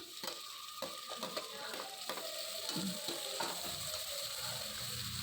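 Carrots and beans sautéing in a pan for vegetable pulao, a low steady sizzle with a few spatula scrapes and clicks early on, close and fairly quiet, no voices.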